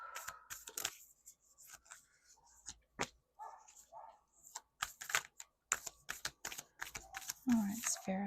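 Oracle cards are shuffled by hand in close, quiet bursts of crisp riffling and slapping taps, irregular and intermittent, with a soft voice speaking near the end.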